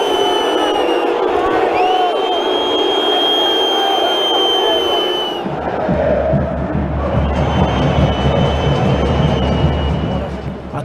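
A large football stadium crowd boos goalkeeper Aranha in a match against Grêmio, producing a loud, sustained roar of massed voices with a deep rumble under it.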